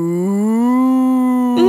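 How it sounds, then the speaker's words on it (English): A cartoon-style cow moo rings out as a single long, loud, sustained tone that swells slightly and then cuts off, heard alone. "No, Bartolito, that's a cow!"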